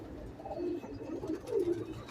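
Ferozpuri breeder pigeons cooing, two or three soft low throaty coos in a row, close and fairly quiet with no talk.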